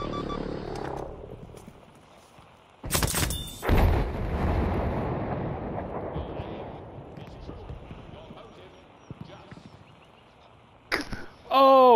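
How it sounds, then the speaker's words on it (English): JB-2 airstrike explosions in Battlefield V, with heavy booms near the three-second mark followed by a long rumbling decay, then another loud blast at the end, with voices talking among the game sounds. "We need a JB-2 airstrike right away, this location."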